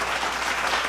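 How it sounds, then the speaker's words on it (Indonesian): Audience applause at a donation announcement during a QRIS success story showcase event, a dense, brief wash of many hands clapping, steady and loud for under a second. "Boleh kita beri tepuk tangan"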